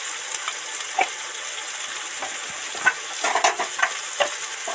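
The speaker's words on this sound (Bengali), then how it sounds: "এবার ভালো করে কষতে থাকবো" Bitter gourd stir-fried with turmeric and chili powder, a soft continuous sizzle with intermittent spatula scrapes and taps against the pan, fairly close and moderately quiet.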